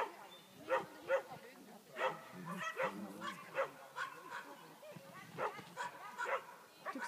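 A dog barks and yips in short bursts at an outdoor dog agility run by a lake, with people talking over and between the calls.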